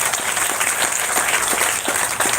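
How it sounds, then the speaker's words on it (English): Outdoor park crowd at a Super Bowl host committee event clapping steadily, a loud continuous patter of many hands with no speech over it. "Let's give him a great round of applause"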